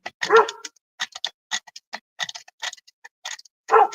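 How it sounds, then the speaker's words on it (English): Dogs bark in short sharp bursts indoors, in an irregular run of yaps close by with no talking. "You guys can probably hear my dogs barking."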